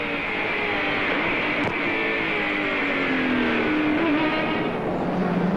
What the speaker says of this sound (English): Listen to the roar of the big engine.